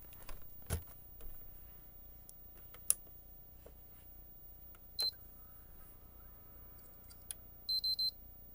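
A PlayStation 3 with the yellow light of death gives short electronic beeps, a few isolated chirps followed by a quick triple beep near the end, heard close against a quiet room without speech.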